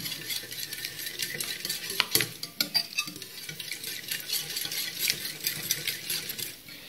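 Ingredients for an onion and parsley tart mixed in a bowl, with a continuous light clatter of a utensil scraping and tapping against the bowl, close and fairly quiet, no voices.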